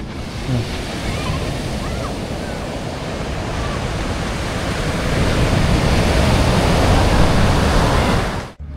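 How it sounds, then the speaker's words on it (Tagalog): Heavy surf on the beach at Dingalan, Aurora, with large waves roaring continuously, loud and close, building slightly stronger toward the end under steady wind. "Nakakatakot yung alon talaga."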